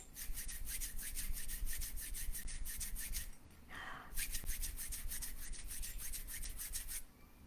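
Two hands rubbed briskly together to imitate a train, a steady close rasping swish in rhythmic strokes that pauses briefly near the middle, then resumes until the end.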